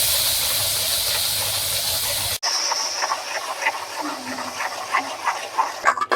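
Banana pieces fry in melted ghee over a low flame for Kerala-style banana halwa. A steady, loud hiss stops abruptly, then a softer sizzle with scattered light crackles and pops continues up close.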